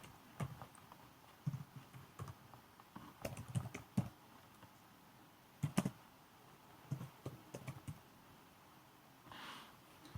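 Someone types a file name on a computer keyboard, soft scattered keystrokes in short clustered bursts with pauses between, quiet and close in a calm room.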